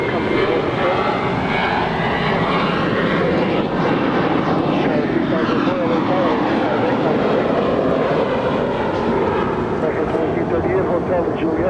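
A jet airliner taking off from LAX at night, its engines producing a loud, steady roar that spans the whole stretch without a break. Tower radio chatter runs over the engine noise.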